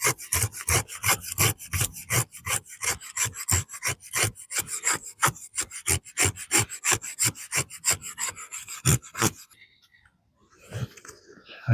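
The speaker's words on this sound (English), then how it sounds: "you can come up to a tree and take your knife, stick your knife in the tree" A knife blade scrapes repeatedly down a tree to carve wood shavings for a feather stick in freezing wet weather, with about thirty quick, close, rhythmic strokes that stop near the end.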